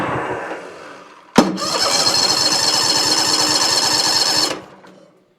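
A Toro Titan mower engine is cranked over: a sharp click, then a loud, even whirring turnover for about three seconds before it winds down and stops.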